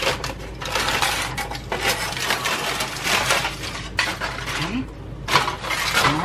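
Christmas crack toffee snapped and broken into pieces by hand, giving a continuous run of close, brittle cracks and crunches with rustling between them.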